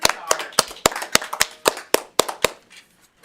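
Sparse handclaps from a small audience at a school board of trustees public meeting, roughly a dozen sharp, distinct claps in an uneven rhythm that thin out and stop.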